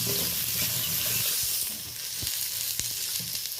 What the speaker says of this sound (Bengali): ভালো করে 2-4 বার নেড়ে চেড়ে হালকা লালচে করে ভেজে নেব পটলটা